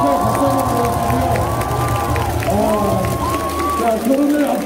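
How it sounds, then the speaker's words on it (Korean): Korean baseball crowd at an SSG vs KIA game cheering and clapping for a player, a dense loud stadium roar with whoops and shouts layered over steady applause, voices rising in the mix. "팬 여러분, 축하해 박수 한번 보여주세요."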